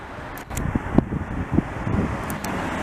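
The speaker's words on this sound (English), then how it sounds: "let's get behind this beam, get out of the wind a bit" Wind gusts buffet the microphone on a city street in Montreal's Verdun area, with a steady roar and low rumbling bursts, while passing traffic hums faintly underneath.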